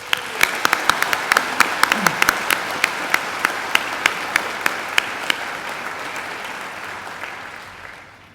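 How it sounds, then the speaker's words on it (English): An audience at a Macquarie University graduation ceremony claps in a dense, sustained round of applause for newly conferred graduates, with sharp individual claps standing out before the sound gradually thins and fades. "Please join me in giving them a round of applause."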